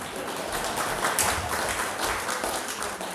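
An audience at a spiritual talk session in Auckland applauds steadily in a soft, continuous wash of clapping from across the room.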